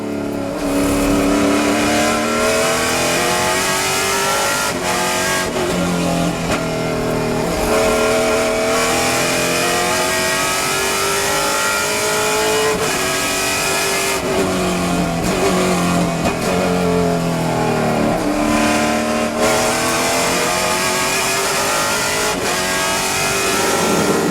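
Trans Am TA2 race cars thunder around Laguna Seca, loud engines rising and falling in pitch as the cars rev and downshift through corners, one after another, with occasional tire squeal.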